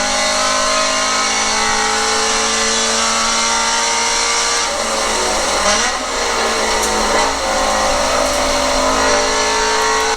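Scion FR-S engine at full throttle on a race track, heard from inside the car as a loud, steady roar that climbs in pitch and drops back briefly with a gear change.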